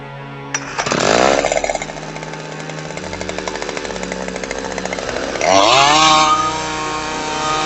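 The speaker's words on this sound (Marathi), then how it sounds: "मी पहिल्यांदा मशीन चालू करून दाखवतो" An engine-powered weed cutter starts up and runs with a loud buzzing drone, revving higher near the start and again toward the end.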